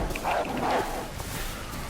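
A dog in the video game Resident Evil 6 gives a couple of short barks close by, followed by a lingering low rumble of game ambience, with no talk.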